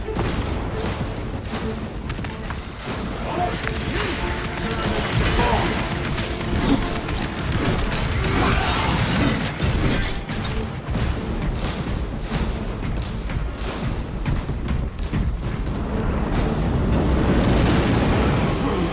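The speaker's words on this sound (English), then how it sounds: "Frag grenade out!" Frag grenade blasts and chaotic battle noise from Warhammer 40,000: Space Marine 2, a dense, continuous wall of booms, crashes and gunfire that stays loud throughout, with shouted voices mixed in.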